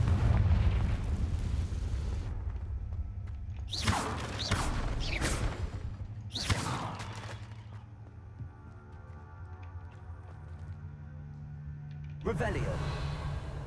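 Fiery Confringo spell blasts in Hogwarts Legacy, several booming bursts a few seconds apart over a rumbling game backdrop, each with a crackling roar that trails off.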